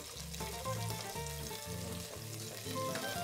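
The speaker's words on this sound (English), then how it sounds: "I'm going to brown them in some hot oil." Squirrel pieces brown in hot oil in a pan, giving a continuous crackling sizzle at close range, with a low tonal hum running underneath.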